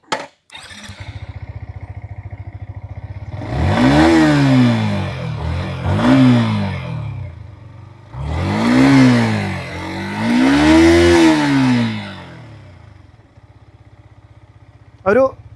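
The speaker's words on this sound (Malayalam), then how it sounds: "നമുക്കിനി എക്സോസ്റ്റ് നോട്ട് കൂടി ഒന്ന് കേട്ട് നോക്കാം" A Yamaha XSR 155 motorcycle starts up and idles with a steady, close exhaust note. It is revved four times in two pairs of rising and falling surges, then settles back to idle before cutting off.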